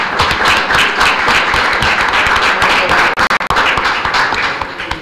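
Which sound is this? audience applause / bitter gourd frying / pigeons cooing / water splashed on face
audience applause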